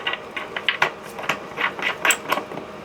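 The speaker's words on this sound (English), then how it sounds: "You just tighten them by hand, as tight as you can." Plastic or metal mounting bolts for a toilet seat twisted tight by hand, giving a close, quiet run of small ratcheting clicks and creaks in irregular bursts, with no voices.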